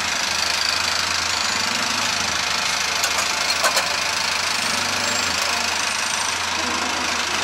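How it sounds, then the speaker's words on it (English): A tuk-tuk's engine runs steadily with a knocking, rattling idle on a street ride in Phnom Penh, Cambodia, joined by a few short sharp clatters partway through. "now I'm gonna take my own tuk-tuk to my hostel"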